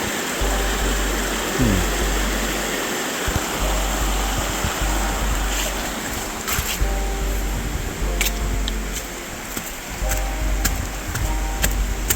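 Two mountain creeks in Odaesan National Park, South Korea, join and flow together, a steady close rushing of water with scattered ticks and clicks.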